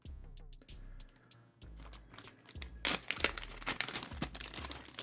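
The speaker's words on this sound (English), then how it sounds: "Big pile of plastic bags that I will hold on to and reuse." Plastic bags crinkle and crunch as a big pile of them is handled while basketball cards are unpacked, with irregular rustling bursts that grow denser and louder toward the end, with no talking.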